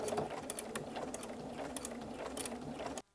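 A sewing machine fitted with a zipper foot stitches velcro, running steadily and close with a dense, even mechanical whir and rapid ticking of the needle before stopping abruptly at the end.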